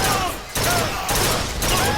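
Burster weapon in a video game firing in quick repeated bursts, loud and close, with a tonal weapon whine threaded through the rapid shots.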